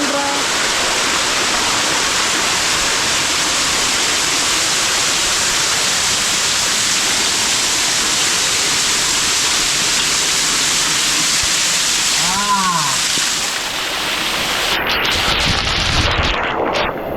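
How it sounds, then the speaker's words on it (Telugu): A waterfall near Punyagiri temple in Araku pours with a strong flow, making a loud, steady, close roar of rushing water. A voice cuts in briefly partway through. "మంచి ఫ్లో అయితే ఉంది వాటర్ ఫాల్."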